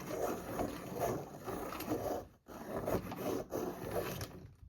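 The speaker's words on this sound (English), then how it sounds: "sharpener noise, sorry guys." A sharpener grinds in repeated rough, rasping bursts, close but fairly quiet, with two short pauses between runs of strokes.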